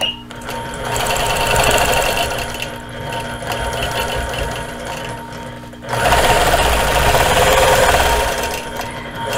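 Sewing machine stitching Dresden Plate quilt blocks, a steady close-up mechanical whir that runs continuously, eases off briefly around the middle, then picks back up louder.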